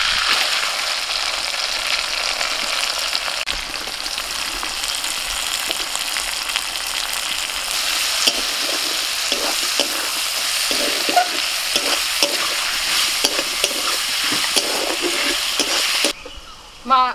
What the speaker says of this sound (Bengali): ওই তেলের মধ্যে দিয়ে দিচ্ছি পেঁয়াজ কুচি